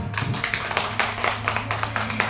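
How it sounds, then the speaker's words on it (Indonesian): A small group claps for Ibu Emma at a school gathering, a quick, loose run of sharp hand claps at steady pace over a low room hum, fairly near and moderately loud. "Boleh kita berikan tepuk tangan kepada Ibu Emma?"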